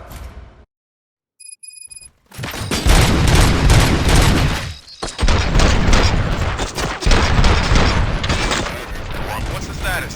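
Gunfire in RoboCop: Rogue City in loud rapid bursts after a brief quiet start with a short electronic beep, continuing densely with mechanical clatter.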